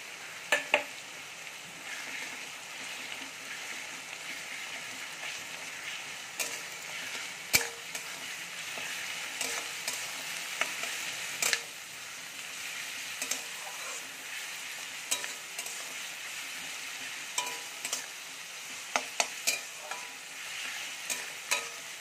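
Crushed garlic sizzles steadily in a pan for a long stretch, with occasional spatula taps and scrapes as it's stirred.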